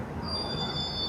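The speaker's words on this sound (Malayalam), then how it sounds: "അങ്ങനെ നമ്മളെ ട്രെയിൻ ഇതാ ഇവിടെ നിന്ന് എടുത്തു." KSR Bengaluru–Kozhikode Express pulling away from a station, with a steady low rumble of rolling stock and a sustained high metallic wheel squeal running through, close and continuous.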